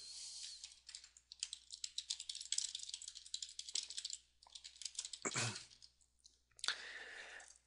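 Code being typed on a computer keyboard, a fast run of close, crisp key clicks with brief pauses and a couple of heavier key presses near the end, alone without talk.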